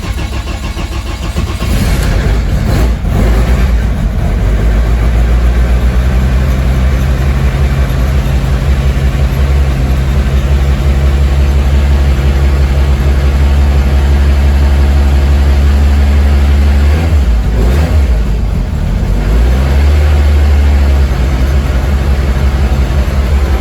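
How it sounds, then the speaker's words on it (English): A BMW E30 rally car engine held at a fast idle around 2000 rpm, a loud, steady, close-up drone with deep rumbling that stays constant throughout, no voices. "then on a fast tick over, so like 2000 revs, which is going to be quite painful"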